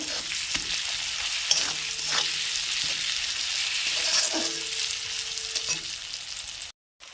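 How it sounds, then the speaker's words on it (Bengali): Chopped tomatoes fry with spices in a pan, giving a steady bright sizzle throughout, with occasional soft clinks and scrapes as the mixture is stirred, no talking. "ওর মধ্যে কেটে রাখা টমেটোগুলো দিয়ে দেবো, দিয়ে ভালো করে আবারও কষিয়ে নেব"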